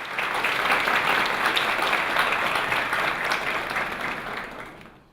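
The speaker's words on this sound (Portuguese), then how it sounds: "gostaria de uma salva de palmas aos nossos companheiros governadores" An audience applauds the governors at a Rotary-style gathering, steady dense clapping that holds at full loudness for about four seconds before tapering off at the end.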